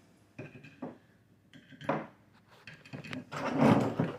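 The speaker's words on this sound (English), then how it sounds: "Drop our bolts in." Honda D16A6 engine bolts dropped into a container during a bottom-end teardown, a few separate metallic clinks and rattles, closer and louder toward the end, with a voice speaking briefly.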